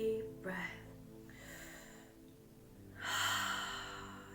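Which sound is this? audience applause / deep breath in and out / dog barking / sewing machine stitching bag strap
deep breath in and out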